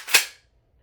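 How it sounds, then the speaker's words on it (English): A Stevens Model 320 12-gauge pump-action shotgun makes one sharp, close metallic clack as a shell is loaded, then falls silent. "Just about everybody knows that click-clack sound of a shotgun shell being loaded into a shotgun."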